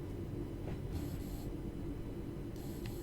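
A simulated train in Train Sim World 5 cruising at about 35 km/h gives a steady low rumble and rolling drone, with brief hissy bursts over the top.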